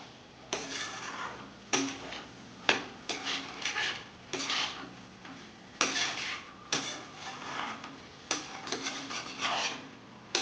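Fried pointed gourd being stir-fried with spices in a pan, repeated rhythmic scraping strokes of a spatula across the pan roughly every second, close and steady with no talking.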